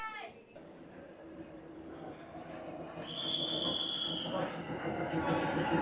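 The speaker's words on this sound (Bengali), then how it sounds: "বেরামপুর স্টেশন থেকে আমাদের ট্রেন ছেড়ে দিল" A train pulls out of Banihal-area station toward Srinagar, a faint low rumble building gradually with a brief high squeal midway, heard from inside the carriage.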